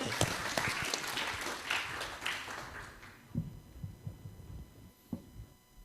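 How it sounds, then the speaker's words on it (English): Conference attendees at ISEMANTIC 2025 applaud to welcome the keynote speaker, a moderate burst of clapping that fades after about three seconds, leaving a few scattered claps and taps over a low room hum. "give applause, please"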